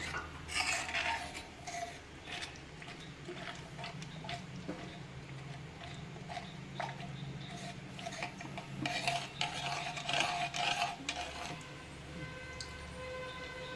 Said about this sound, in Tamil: சேர்த்து வச்சு நல்லா கை விடாமல் கிளறி விடணும் இல்லாட்டியும் கட்டி தட்டி போயிடும்